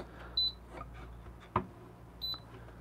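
A Timemore Nano coffee scale switching on, giving two short, clear electronic beeps about two seconds apart, with a soft tap on its touch button in between, close and quiet.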